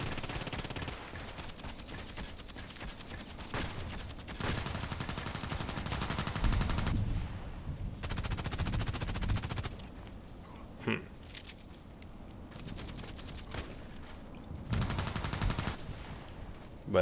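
M40A6 sniper rifle shots in a video game, arriving as a series of loud, sharp bursts spaced a few seconds apart, each with a short rumbling tail, over a steady background of game ambience.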